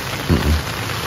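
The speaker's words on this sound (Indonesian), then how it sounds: "Hujan ya." Steady rain on a mountain hike, a dense even hiss throughout with a brief low thump near the start, no voices.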